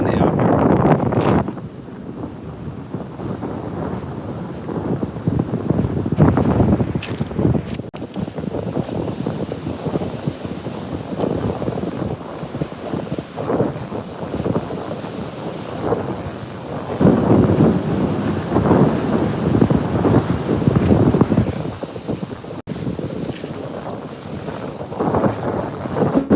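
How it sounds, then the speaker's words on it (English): Strong coastal wind buffets the microphone in heavy, rumbling gusts that surge and ease over the whole stretch, loud and close, with surf or water noise beneath and no clear talk. "Excuse the wind, it's a little windy out here."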